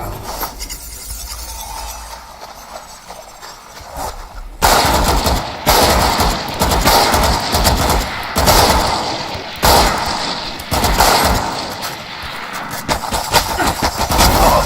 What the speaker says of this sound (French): Tiré. Grenade lancée.